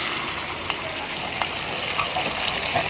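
Anchovies frying in hot oil in a home kitchen, a steady close sizzle with occasional louder crackles and pops, no talking.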